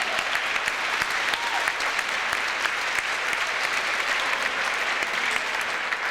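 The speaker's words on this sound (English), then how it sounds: "Nice round of applause for the 76ers." Applause at a youth little league basketball awards ceremony as the league runner-up team is honored, sustained even clapping from a gym crowd lasting several seconds at steady volume.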